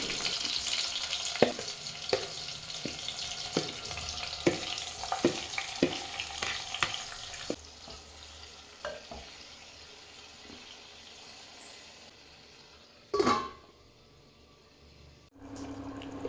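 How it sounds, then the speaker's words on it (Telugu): Marinated mushrooms sizzle as they fry in hot oil in a clay pot, with a steady hiss broken by regular stirring knocks and scrapes, followed by quieter cooking and a couple of louder clatters near the end. "కొంచెం ఆయిల్ యాడ్ చేసుకొని ఆయిల్ కొంచెం హీట్ అయినాక ఆల్రెడీ మనం మ్యారినేట్ చేసి పెట్టుకున్న మష్రూమ్ ఇదంతా ఉంది కదా మిక్స్ ఇది దాంట్లో వేసేయాలి"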